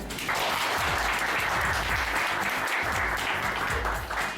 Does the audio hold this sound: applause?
yes